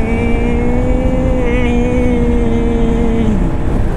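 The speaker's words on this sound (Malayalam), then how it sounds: "അയ്യോ, വണ്ടി വന്നു ഗൈസ്." A vehicle approaches on a busy Tamil Nadu road, its engine droning loud and close with a steady tone that dips in pitch near the end as it passes.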